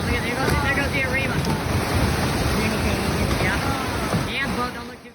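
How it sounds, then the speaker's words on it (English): Massive waves surge into a California marina, a steady broadband roar of rushing water and surf buffeted by wind noise, loud and continuous throughout. "Massive waves forced huge volumes of water into a marina in California, damaging docks and boats in their path."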